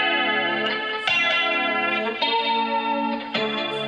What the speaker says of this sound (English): that's with the flanger. Yeah. Then you add the echo on. Here the sound gets bigger, and then you put the compression.